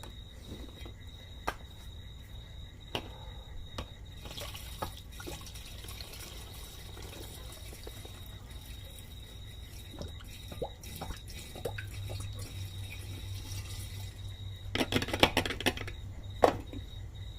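Nutrient tea poured straight into a small batch of chilli mead outdoors, a faint trickling and dripping under steady night insect and cricket chirping, with a louder splashing burst near the end.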